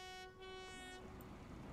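A train horn sounds on the tracks, one sustained tonal blast lasting about a second before cutting off, leaving rumbling rail and ambient noise underneath.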